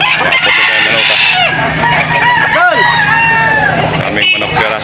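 Gamecocks for sale, a Busing breeding line, crowing and clucking loudly and close by, with overlapping calls throughout and voices talking underneath.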